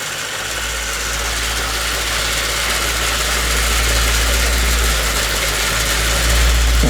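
A plywood Ugears mini helicopter laser-cut kit with its wheel and main gearbox turning gives a steady, continuous mechanical hum and whir, fairly loud and close, running unbroken with no talk.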